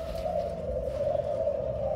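A tame male dove coos in a steady, continuous low hum, close and moderately loud over faint background noise, with no talking.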